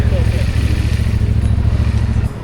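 A motorcycle idles close by on a street in Nanjing, China, its engine thumping in a fast, even low rhythm that drops away near the end while people talk over it.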